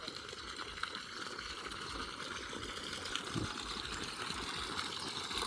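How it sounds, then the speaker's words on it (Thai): Groundwater drawn up by a solar-powered pump gushes out steadily onto a rural rice farm in the morning, a continuous loud rushing and splashing of water with no break. "ส่วงนี้บ่ค่อยได้ปลูกหยังก็เลยปล่อยน้ำลงสะ น้ำมันก็เลยไหล"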